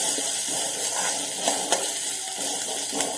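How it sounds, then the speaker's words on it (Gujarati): Spices and asafoetida sautéing in hot oil, a steady close sizzle and crackle with occasional stirring scrapes throughout, no talking. "અંદર આપણે થોડી હિંગ એડ કરી દઈશું અને બધું જ આપણે સારી રીતે સાંતળીશું"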